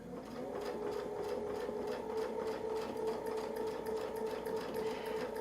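A sewing machine stitches a zig zag quilting line with a template, running steadily at close range with a fast, even mechanical whir and rapid needle clatter throughout.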